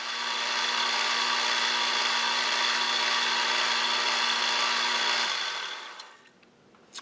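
A Dremel toolpost grinder grinding a rusty drill bit, a steady high whining buzz that holds evenly for about five seconds and then winds down and stops.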